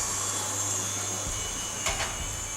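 A stand mixer whisks meringue with a steady, loud whirring motor drone throughout, broken by a brief clatter near the end.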